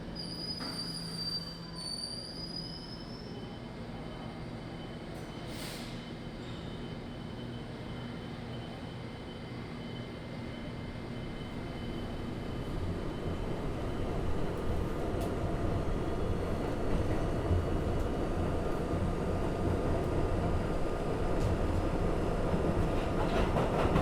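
A subway train rolls into a station, wheels letting out high squealing whines early on, then a rising roar of rail rumble and clatter that grows louder as the cars draw near.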